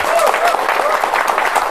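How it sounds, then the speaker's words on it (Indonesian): An audience claps loudly for the chairman of a foundation at a motivational seminar, a dense and continuous burst of applause mixed with voices. "Tepuk tangan dong yang meriah Pak beliau"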